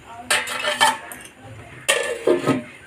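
Metal lid set onto a cooking pan while making yogurt pattal, two pairs of clanking metallic knocks close by, with a quiet pause between them.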